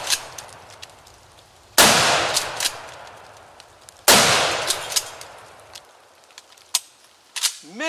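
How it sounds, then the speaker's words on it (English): A Mossberg Shockwave shotgun fired one-handed with 3-inch shells: two loud, close blasts a couple of seconds apart, each with a ringing decay, followed by smaller clanks and handling noises. "I do not recommend the Shockwave one-handed firing, nor do I recommend the Shockwave using 3-inch shells in it"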